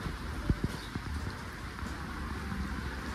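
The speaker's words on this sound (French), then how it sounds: "Ce que vous allez entendre, c'est pas la pluie, ce sont les frelons qui tombent." Asian hornets dropping to the ground in large numbers sound like a soft, dense patter of rain, with a few sharper individual taps near the start over a steady faint hiss.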